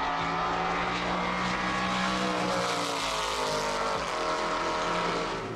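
Chevrolet V8 of a Lola T70 race car: a loud, steady engine drone with a low harmonic rumble that holds through the whole stretch, a brief dip near the four-second mark, no talk.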